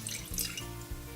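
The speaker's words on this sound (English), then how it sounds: "we're going to pour in 1/4 cup of fresh lemon juice" Fresh lemon juice pours steadily into an empty tea kettle, a brief liquid trickle and splash against the metal interior.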